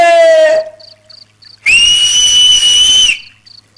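A loud, shrill whistle gives one sustained blast of about a second and a half, after a shorter falling tone. Faint short chirps sound in the quieter gaps.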